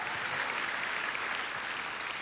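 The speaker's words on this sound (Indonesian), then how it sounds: "Tepuk tangannya yang paling meriah buat Tuhan kita." Church congregation applauding after a pastor's call to praise God, a steady broad wash of clapping that fills the whole stretch at moderate level, with no voices standing out.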